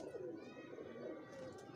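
A netted-pattern pigeon, caught after landing and held in the hand, gives soft, low, rolling coos that run steadily through the moment at close range.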